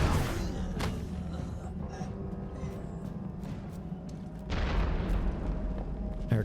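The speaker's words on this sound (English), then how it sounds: "I heard an explosion." Explosion in the video game Secret World Legends, a loud booming burst at the start and another swell of blasts near the end, over a dense rumbling game soundscape.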